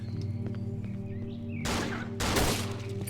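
Two sharp bursts of gunfire in the video game Cry of Fear ring out over a humming background, the second louder than the first.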